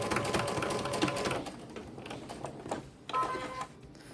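A sewing machine runs a top stitch around a homemade no-elastic face mask. A rapid, faint mechanical chatter runs close by, then slows and stops in short bursts.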